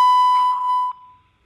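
A single steady electronic beep from an automated bank phone line sounds clearly and alone for about a second before cutting off to near silence.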